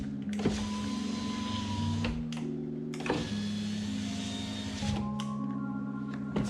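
Power window regulator motor from an Audi B5 S4 running in repeated steady whirring bursts with brief stops between them, close and fairly loud with no talking.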